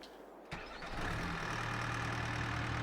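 Supercharged 6.2-litre V8 of the TLX 3500 in Farming Simulator 22 cranks and catches after a brief quiet moment, then settles into a loud, steady, rumbling idle close up with no talking.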